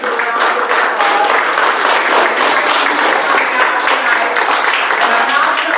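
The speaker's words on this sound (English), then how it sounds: "Let's give all of our candidates a round of applause." A forum audience at a 2013 2nd Congressional District primary gives the candidates steady, full applause that lasts throughout, loud and even, with faint voices mixed in.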